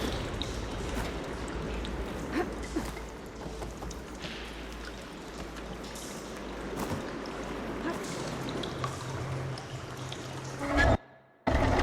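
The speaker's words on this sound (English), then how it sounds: "Aloy, I can hear water in the room again." Water running and pouring into a room in Horizon Forbidden West, a steady broadband wash with trickling detail under faint game ambience, continuing for about eleven seconds before cutting off abruptly near the end.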